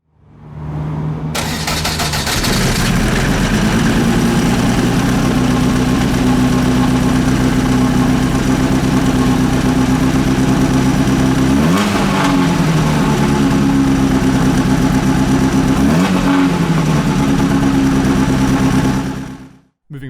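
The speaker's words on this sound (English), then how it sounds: "We can now hear how 340R sounds." The engine of a 2000 Lotus 340R starts up and settles into a loud, close, steady idle, broken by two sharp blips of revving before it cuts off at the end.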